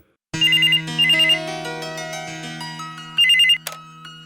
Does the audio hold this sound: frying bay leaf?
no